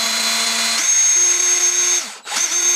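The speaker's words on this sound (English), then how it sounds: "Hold this right there and just drill" Power drill boring holes to mount overfenders on a BMW E36, whining loudly and close, stepping up in pitch as the speed changes, briefly cutting out and then spinning back up.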